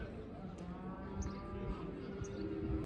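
Cattle moo at a busy livestock market in Shymkent where cows are being sold, several low drawn-out calls rising over a steady crowd murmur.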